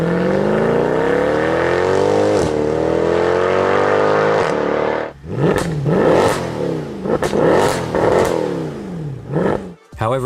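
A Mercedes-AMG C63 turbocharged four-cylinder engine drones and rises in a long steady pull, then gives several sharp blips and revs with brief cutoffs. The engine sounds loud and close.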